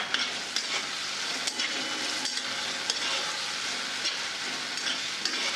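Black masala being stirred into cooked green peas in a hot pan for samosa filling, a continuous close sizzle with repeated scraping stirs of the spoon at irregular intervals, no voices.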